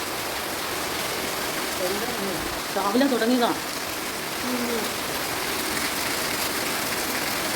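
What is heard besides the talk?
heavy rain falling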